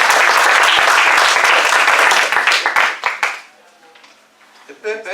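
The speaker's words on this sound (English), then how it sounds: "I would want everybody to please give a hand of applause to all our speakers" A room of meeting attendees claps warmly for the speakers, dense applause for about three seconds that tapers into scattered claps, followed by a voice starting to talk.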